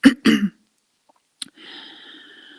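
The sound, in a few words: cough and throat clearing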